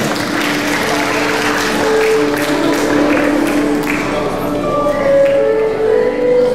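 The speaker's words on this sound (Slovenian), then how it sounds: "En močen aplavz tudi za podružnično osnovno šolo Blagovna" Applause from a school event audience honoring a primary school branch, continuous clapping at a steady moderate level, with some tonal sounds and voices faintly beneath.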